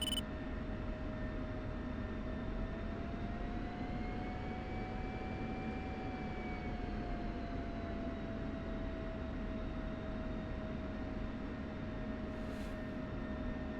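An F-16 Viper taxiing in the DCS flight simulator gives a steady, loud jet engine drone with a sustained whine that rises and falls slightly, continuous throughout with no talking.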